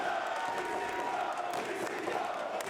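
A sold-out, jam-packed Los Angeles crowd at a GCW wrestling show roars and cheers continuously, a dense wash of voices filling the space.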